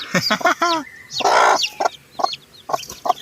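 A native hen clucks among her chicks: short repeated clucks and high cheeping peeps close by, with one longer harsher squawk in the middle, loud and intermittent, with no talk.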